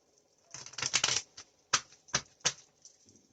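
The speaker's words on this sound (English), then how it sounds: "Let me shuffle 2 more times." Playing cards are shuffled in a few quick riffle bursts followed by separate sharp snaps and taps, close and fairly quiet, with no talking.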